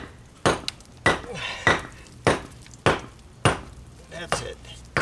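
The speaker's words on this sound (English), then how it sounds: "Instead of sawing it, I use my bigger hammer" Heavy hammer repeatedly striking and splitting stone caps for masonry steps outdoors, about eight sharp cracking impacts at a steady pace, each followed by brief clatter of broken stone.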